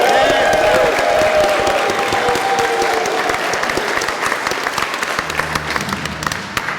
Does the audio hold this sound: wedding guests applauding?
yes